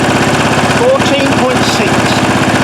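An engine holds a steady 2000 RPM, giving a loud, even, throbbing drone that runs throughout the short stretch with no change in pitch.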